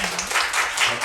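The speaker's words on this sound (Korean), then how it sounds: "뜨거운 박수 한번 쳐주세요" An audience at a policy forum on employment claps together in a brief, steady burst of applause, many hands filling the hall with even, pulsing sound from start to finish.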